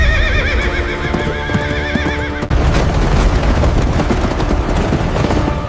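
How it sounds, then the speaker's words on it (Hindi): A horse neighs loudly with a long wavering whinny, then its hooves break into a fast, heavy galloping rumble that carries on to the end, close and forceful. "नंदिनी, अश्वशाला से सबसे तेज घोड़े निकालो।"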